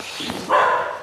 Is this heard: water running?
no